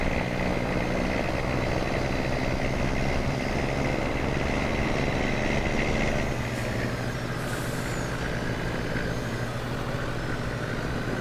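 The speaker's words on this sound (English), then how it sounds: "I like the sounds of the engine." A heavy PAZ Bandit 8x8 vehicle engine in Farming Simulator 22 drones steadily with a deep, even rumble, continuous and fairly loud, easing slightly partway through, with no voices.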